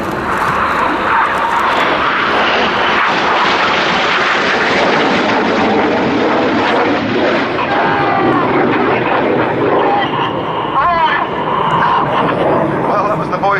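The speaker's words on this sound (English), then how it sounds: "he and 7 now fly inverted close formation as 8 and 9 barrel roll around their smoke trails" Red Arrows RAF jets roar loudly and continuously through a display manoeuvre at RIAT 2011, the engine noise swelling and shifting as they pass, with a commentator's voice running beneath it.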